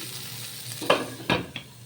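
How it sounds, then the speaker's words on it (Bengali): Hilsa fish wrapped in banana leaf crackles softly in a hot pan, with a few brief scraping clatters as it is stirred or turned. "পাতুরি কিন্তু ভাজা ভাজা হয়ে এসছে একদম"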